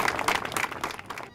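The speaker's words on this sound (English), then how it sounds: "fans are getting really excited to cheer on the Syracuse Mets" Stadium crowd at NBT Bank Stadium cheering and applauding for the Syracuse Mets, a dense, steady wash of clapping and shouts that fades slightly at the end.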